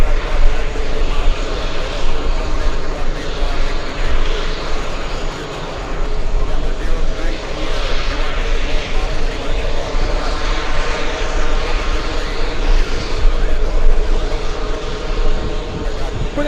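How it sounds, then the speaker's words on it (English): An Airbus A380 jet airliner on the runway at JFK airport gives a loud, steady engine roar that fills the whole stretch, with faint voices underneath. "That A380 on 22 left."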